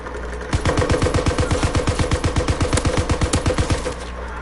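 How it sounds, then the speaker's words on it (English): A light machine gun in a PS4 video game fires a sustained burst of about thirty rapid, evenly spaced shots, loud and close, with no talking over it. "the good thing about this light machine gun, it's very, very accurate, but it's not very strong"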